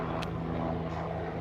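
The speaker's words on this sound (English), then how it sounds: "sorry y'all, that's a helicopter." A helicopter or similar aircraft flies overhead during an indoor chat about bathing, with a steady low rotor and engine drone and a continuous rumble that holds at an even level throughout.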